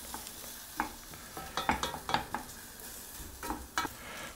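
Onions cook over low heat in butter in a pan, a soft quiet sizzle broken by several sharp scraping clicks of a utensil being stirred through them.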